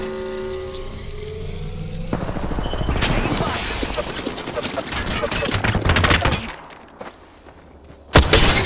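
Video game gunfire, a dense stretch of rapid close shots and bursts under a helicopter-like drone, easing off briefly before another sharp loud shot near the end.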